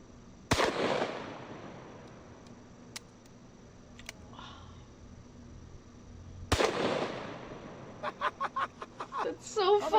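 Two loud, sharp .500 Magnum revolver shots ring out about six seconds apart, each blasting into a steel safe door and leaving a long echoing decay, followed by a quick run of rapid clattering ticks.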